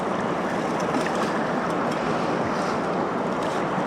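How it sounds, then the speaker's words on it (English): Water rushes steadily and loudly through a gold panning sluice on the North Yuba River, a dense continuous hiss and gurgle with no pauses. "Got the water jetting out the back of the sluice."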